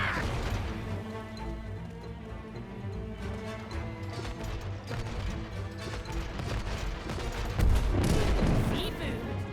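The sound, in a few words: ship cannons firing in video game It Takes Two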